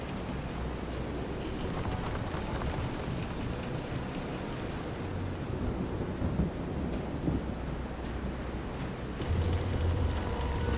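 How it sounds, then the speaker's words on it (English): A thunderstorm at sea in the video game Visions of Mana: constant heavy rain roars under rolling, rumbling thunder, with a louder low boom swelling near the end, no speech. "This is some storm."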